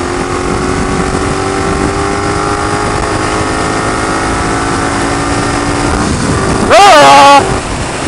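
A motorcycle accelerates hard from 50 toward 100 mph, giving a loud, steady engine drone whose rising harmonic tones climb under heavy wind roar. Near the end a voice shouts briefly over the engine.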